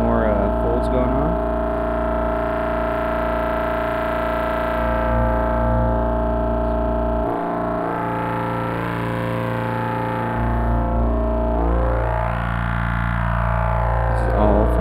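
A buzzy, harmonically rich synthesizer drone from a sine wave folded by a TripsQuad waveshaper, its timbre slowly sweeping and morphing while the pitch holds steady and loud.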